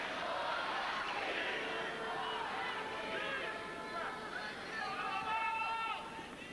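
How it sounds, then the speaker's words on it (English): Tennis crowd at a Tim Henman match against Coria cheering and calling out encouragement, a steady dense roar of many voices with scattered shouts rising and falling throughout. "Crowd trying to encourage Tim."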